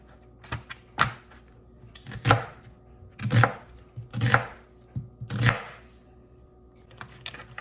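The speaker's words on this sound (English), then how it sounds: "So I'm gonna chop one onion up." An onion being chopped with a knife for a crockpot garden vegetable soup, giving a series of sharp, close knife thunks against a cutting board in an uneven rhythm of about eight strikes, alone without talk.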